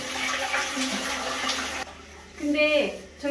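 A toilet in an older Istanbul rental flat flushes using a button on top of the cistern, a short gushing rush of water that drops away, followed by a refilling trickle, with a voice talking over the start.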